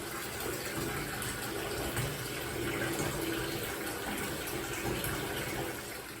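Bath water runs from a tap into a tub in a steady, close gush of splashing and filling that holds evenly throughout, with no voices.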